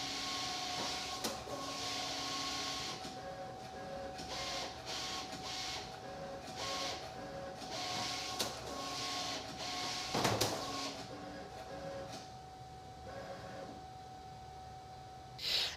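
A Cricut Venture cutting machine works through a project, its motors whirring and stepping in a steady stop-start rhythm of short mechanical runs and pauses, close and moderately quiet.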